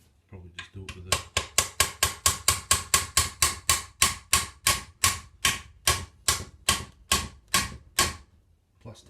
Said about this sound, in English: we'll tap this pin back in.